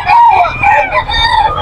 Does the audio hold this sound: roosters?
yes